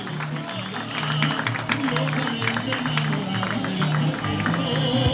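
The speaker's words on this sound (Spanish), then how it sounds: "Y que se escuche fuerte el aplauso para nuestros pequeños brigadistas de Protección Civil" Scattered applause and crowd noise at a 20 November municipal street parade, honoring a young Civil Protection brigade; steady, moderately distant clapping with a murmuring crowd.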